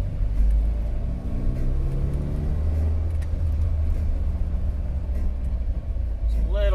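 A car engine fitted with a 2.3-to-5.0 throttle position sensor adapter runs on a test drive after the idle control valve is refitted, a steady, close low rumble that holds for the whole stretch.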